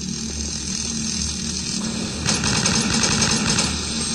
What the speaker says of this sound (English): Use the shotgun.